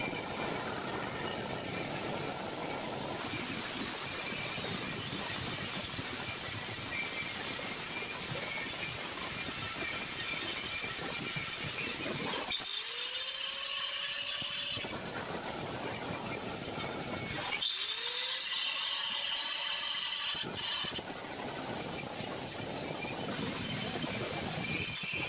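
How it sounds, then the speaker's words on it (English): A loud, continuous grinding screech of an angle grinder cutting through a rusted-on spline stud on a car exhaust flange, with a couple of brief pauses where the motor whines down before biting in again. "Then I decided to cut away the head of the spline stud with an angle grinder"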